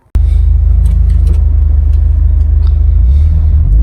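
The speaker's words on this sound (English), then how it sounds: "let's go ahead and do that test drive and see what kind of sounds this intake creates now" Car engine fitted with an aftermarket intake on a test drive, a steady loud low rumble and drone held close throughout after a sudden start, with no talk.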